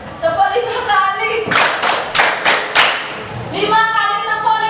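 A group of people claps hands together five times in a quick, sharp burst, with voices talking just before and after.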